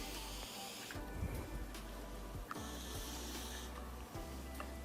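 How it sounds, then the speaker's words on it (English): Several short hissing bursts of a pump spray bottle misting water onto clay, close by, spaced a second or two apart over a steady low hum. "Spray some water in the center first."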